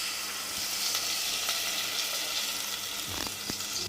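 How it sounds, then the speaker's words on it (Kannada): Curry leaves and asafoetida sizzle and crackle in hot oil, a tempering for a temple-style drumstick dal sambar. It is a close, steady frying hiss with sharp pops scattered throughout. "ಕರಿಬೇವು ಚಟಪಟ ಅಂದಮೇಲೆ ನಾವು ಹಿಂಗನ್ನ ಆ್ಯಡ್ ಮಾಡ್ಕೊಳ್ಳೋಣ"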